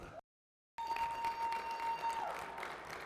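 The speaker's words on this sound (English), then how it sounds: "Well, some more applause." Faint audience applause at a college football awards show, a brief clipped burst, then a gap of silence, then quiet sustained clapping that continues to the end.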